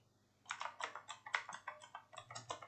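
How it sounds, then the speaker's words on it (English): Fingers type an address on a computer keyboard in a quick, even run of close, soft key clicks lasting about two seconds, heard alone. "Just open a browser and type this address"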